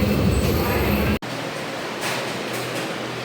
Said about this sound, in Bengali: যাক, এই ট্রেনটা ধরেছি